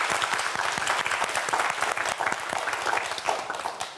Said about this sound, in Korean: 두 학생 모두 도전에 힘내라고 박수 한번 보내주세요.